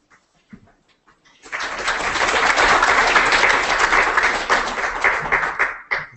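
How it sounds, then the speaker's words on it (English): Applause from a conference audience at a digital futures afternoon session in Cardiff, swelling after a quiet start into steady, dense clapping that holds for several seconds before tapering off. "It was great to get a round of applause before we even started."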